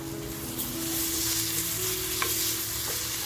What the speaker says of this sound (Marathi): जो टॅमॅटो कापून घेतला आहे तो टॅमॅटो टाकून घेते आणि लगेचच बघा, मीठ टाकते